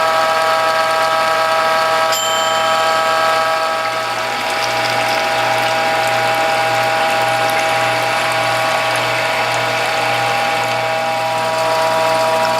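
A Whole Health Foundation juice press is advanced with its ratchet, squeezing Swiss chard, broccoli greens, French sorrel, cucumber, bell pepper and garlic, giving a loud, continuous mechanical grinding with a rapid, pulsing click throughout.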